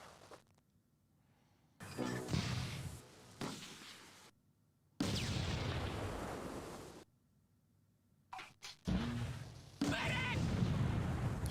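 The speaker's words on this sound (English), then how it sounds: "They're already shooting their goddamn mortars at me." Mortar fire in the WWII tactical game Close Combat 2: A Bridge Too Far: three loud, rumbling blasts, each lasting a second or two, separated by near silence.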